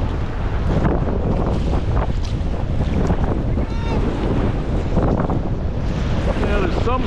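Steady, loud wind roars against a sea wall on the open shore, blowing out of the north and buffeting the microphone continuously, with surf washing beneath it.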